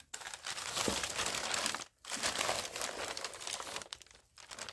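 Paper crumpling and tearing close up on a crafting workspace, a continuous crinkly rustle in two long bursts separated by brief pauses, with no talking.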